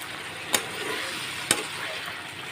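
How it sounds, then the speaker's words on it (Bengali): Potatoes and spices frying in oil in a pan give a steady, close sizzle, broken by two sharp stirring scrapes or knocks, with no talk. "দেখুন আলুটার সঙ্গে মশলাটা কতটা কষানো হয়ে গেছে, এর থেকে তেল ছেড়ে ছেড়ে দিচ্ছে"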